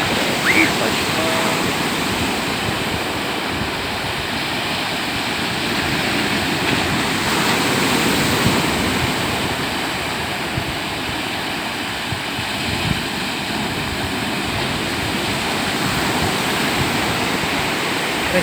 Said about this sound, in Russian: Красивый вид, когда течет река в море. А море сопротивляется и волну гоняет речные воды назад.